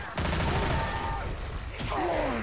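A burst of gunfire in Left 4 Dead 2 during a co-op swamp level, rapid shots layered under dense game noise with strained voices and groans mixed in.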